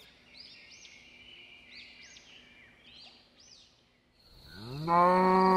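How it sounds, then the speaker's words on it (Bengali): Cartoon cows mooing: a loud, close, drawn-out low bellow rises at the end after a quieter stretch of repeated sweeping bird-like calls over faint background hiss. "হঠাৎ গরু ডাকে আমার ঘুম ভেঙে যায়।"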